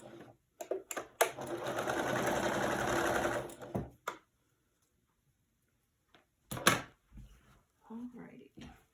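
A sewing machine stitches a quilt block with fabric fed under the presser foot, a steady close mechanical whir running for about three seconds, then brief bursts of stitching separated by pauses and handling noises.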